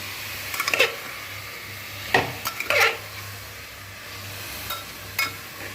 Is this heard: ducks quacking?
no